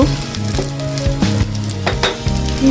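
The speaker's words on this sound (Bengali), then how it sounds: "এগুলো একটু ভালোভাবে ভেজে নেব" Thickly cut onions frying in a pan for chicken kala bhuna, a loud close sizzle with hissing crackle, overlaid by tonal hum-like background music.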